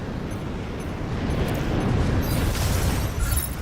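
A barrage of explosions from a Gundam mech video game rumbles as a dense, continuous low roar of blasts, growing slightly louder and sustained through the whole stretch with no talk.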